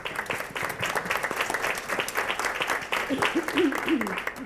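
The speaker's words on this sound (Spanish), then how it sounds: "Ahí los chicos aplaudiendo así, ¿no?" Children applauding at a book presentation event, a steady patter of clapping that fills the room, with an adult voice speaking over it toward the end.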